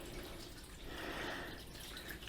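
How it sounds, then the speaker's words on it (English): Water drains out of a new washing machine as a faint, steady trickle with soft drips, quiet and continuous with no talking. "You see the water going down, and once it's drained, I can put clean water in there"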